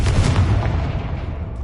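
A deep, booming explosive blast from the Confringo spell in the Hogwarts Legacy video game, loud and heavy, with a rumbling tail that fades over about a second.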